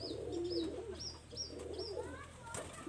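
Domestic pigeons coo in a soft series of repeated calls, a few birds close by with faint chirps mixed in, over a low background hum.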